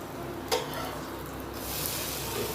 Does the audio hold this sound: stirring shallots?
yes